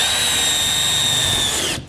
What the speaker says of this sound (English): And you just want to drill out the center.